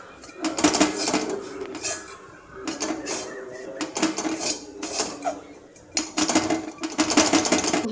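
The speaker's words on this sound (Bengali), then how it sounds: "আর চালটা একটু নেড়ে নিচ্ছি" Rice being stirred in a metal cooking pot, repeated bursts of scraping and clanking from a spoon against the pot with short pauses between strokes.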